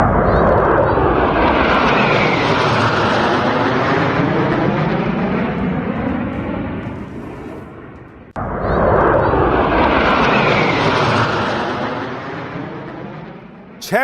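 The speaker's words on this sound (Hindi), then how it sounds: "वायुसेना ने 2 राफेल, 2 सुखोई, 2 मिग-29 और एक जैगुआर लड़ाकू विमान के साथ सिंदूर फॉर्मेशन बनाया।" Rafale, Sukhoi, MiG-29 and Jaguar fighter jets fly over a Republic Day parade, a loud, continuous roaring jet rumble that swells and fades, then surges again as a second pass roars overhead.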